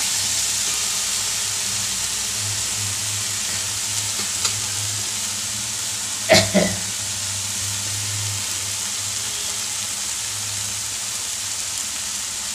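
Spices frying in oil for a thin boal fish curry with potatoes, giving a steady close sizzle and hiss that runs throughout, broken near the middle by a couple of brief utensil knocks as the pan is stirred.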